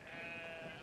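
Sheep bleating in the video game Brothers: A Tale of Two Sons, a single short, faint, wavering bleat heard alone with no talk.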